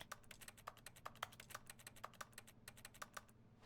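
Picking up a letter in The Stanley Parable sets off a run of soft, rapid keyboard typing clicks, roughly twenty quiet keystrokes tapping in an uneven but steady stream.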